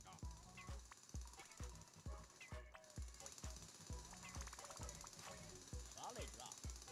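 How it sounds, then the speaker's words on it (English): Mining machinery drills a rock wall in the video game Manic Miners, a steady rhythmic pounding like a jackhammer repeating about twice a second with a bright metallic hiss above it. "You two to drill that wall."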